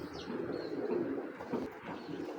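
Pigeons coo in low, continuous warbling tones close by, with a few faint chirps above them and no speech.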